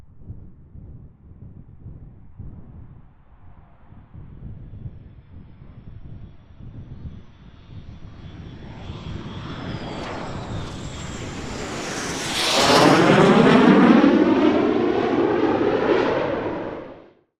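NASA X-59 quiet supersonic jet flying, its engine roar building steadily and swelling loudest as it passes near, then dropping away, with wind buffeting the microphone and no talk.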